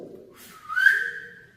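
A single rising whistle tone, clear and moderately loud, swelling briefly and then fading out, during a band's Christmas concert.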